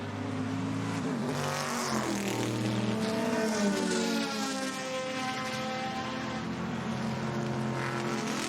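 A Ford Mark II race car, number 32, limps across the finish line, its engine note rising and falling continuously, moderately loud with sweeping pitch changes and no talk.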